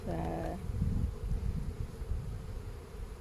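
A swarm of honey bees gives off a steady, low, droning buzz that fills the whole stretch, with a brief voice at the very start.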